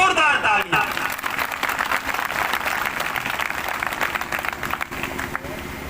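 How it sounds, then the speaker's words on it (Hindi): Applause for a local official and his team at a free coaching-class inauguration in a village, dense clapping rising quickly after a short voice and holding steady, with crowd murmur and possible talk mixed in. "एक बार राठौड़ साहब और उनकी टीम के लिए जोरदार तालियां।"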